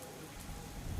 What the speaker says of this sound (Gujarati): ઉપરવાસમાં ભારે વરસાદને કારણે આ સ્થિતિ જોવા મળી રહી છે